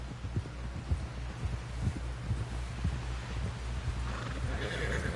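A horse in Red Dead Redemption 2 whinnies over the steady thud of hooves, a close low rhythmic pounding that runs throughout, with a brighter neigh near the end and no talking.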